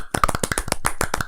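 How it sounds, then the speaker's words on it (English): A small group claps hands in a short burst of quick, irregular claps, fairly close and lively, with a voice faintly in the mix. "Clap, clap. Everyone clap."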